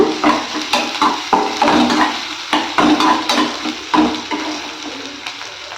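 Grated ginger being stirred into a frying pan for tapioca pearl upma: a spoon scrapes and clacks against the pan in a quick, regular rhythm, close and clear, with no talking.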